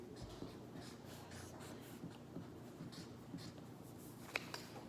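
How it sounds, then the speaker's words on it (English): A marker or pen writes a math problem on a board with short scratchy strokes. The rubbing comes in irregular bursts at a quiet, close level, with no talk. "I'll write that bigger"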